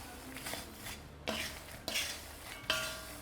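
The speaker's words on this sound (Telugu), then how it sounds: "ఇవి మటుకి చాలాసేపు ఫ్రై చేసుకోవాలి కడాయిలో, ఎందుకంటే ఇవి సాఫ్ట్గా ఉంటాయి" Phool makhana and nuts are stirred while roasting in a kadai, with a quiet frying hiss broken by about four scraping strokes of a spatula against the metal pan, with no voices.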